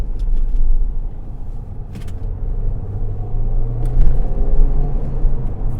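A car with a 6-speed manual gearbox drives through a small roundabout, its engine a steady low rumble with road noise throughout, rising slightly as it accelerates out.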